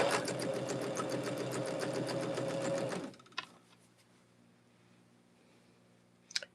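Sewing machine stitching a quilt block runs close and steady with fast rhythmic needle clatter for about three seconds, then stops, leaving quiet room tone with a couple of faint knocks.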